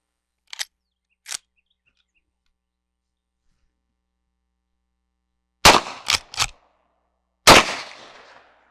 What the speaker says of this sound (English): I'm going to shoot the bottle on the left with a 38 special and then go back over to the right with a 357